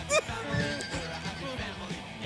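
A horse gives a short, high whinny at the start, followed by low snorting and faint movement, with other sounds softly in the background, from a film scene.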